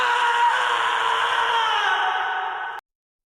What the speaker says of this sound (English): Lelouch's scream does not help at all.